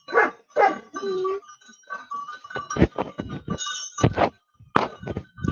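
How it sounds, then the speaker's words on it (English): Goats walk past with bells ringing, bright metallic clinks and tones mixed with goat bleats and a dog's barks, close by in an outdoor setting. "I can hear their bells."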